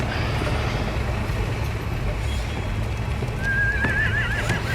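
A horse whinnies in The Walking Dead: A New Frontier video game, a rising, wavering neigh near the end over a loud rumbling, rattling background like a moving vehicle or train.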